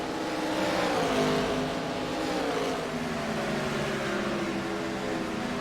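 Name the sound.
race cars at Phoenix raceway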